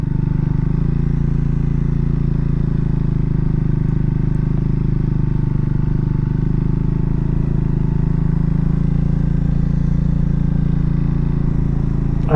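A Triumph Speed 400 motorcycle ridden at low speed, its engine a steady, loud, unbroken drone with wind-like rumble throughout and no voices.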